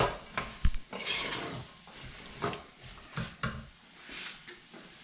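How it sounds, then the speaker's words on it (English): Red onions simmering in a pan are stirred with a utensil, giving several distinct knocks and scrapes against the pan over a soft sizzling bed, close by. "Here, Jake, you stir them bad boys."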